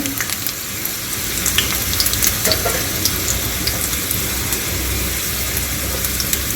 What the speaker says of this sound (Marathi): अद्रक टाकून घ्यायचे आहे जे तुकडे केले होते ते याला छान दोन मिनटं फ्राय होऊ द्यायचे आहे